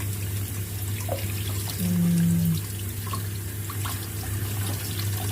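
Bamboo clams being rinsed under a running kitchen tap, a steady near stream of water with small splashes and drips, a brief louder gush partway through, and no talking.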